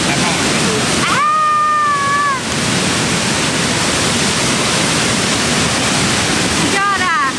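Li Phi waterfall in southern Laos roars as a steady, loud broadband wash of falling water that runs the whole way, with a voice speaking over it briefly near the start and again at the end.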